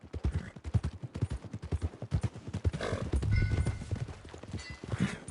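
Horse hooves clip-clop in a steady trotting rhythm in Red Dead Redemption 2, close and clear, with a creaking tack sound and a brief whinny partway through.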